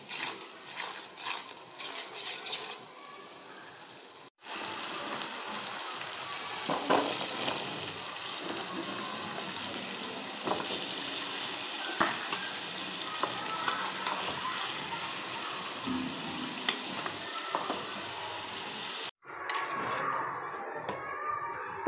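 Spices and onions sizzle in a curry pan, a steady loud frying hiss with scrapes of stirring running most of the way through, bracketed by quieter moments at the start and end.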